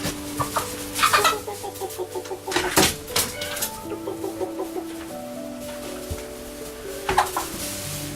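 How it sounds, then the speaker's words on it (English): Several chickens cluck in short, irregular bursts, close by, with scattered higher calls and a steady background hum. "Come on, chickens."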